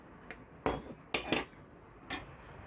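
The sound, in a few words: walnut shell cracking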